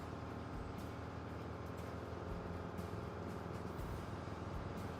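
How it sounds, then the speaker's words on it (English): A rusty truck in the RoadCraft video game labors uphill, its engine giving a steady, loud, rumbling drone that never lets up. "God, the rusty truck is struggling to get up this hill."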